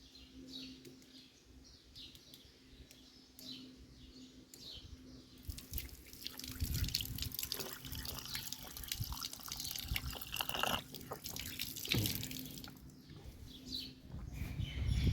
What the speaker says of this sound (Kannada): ಇಲ್ಲಿ ನೋಡ್ರಿ ಫ್ರೆಂಡ್ಸ್, ಕಂಟಿನ್ಯೂ ನೀರು ಬರ್ತಾವೆ ಇಲ್ಲಿ.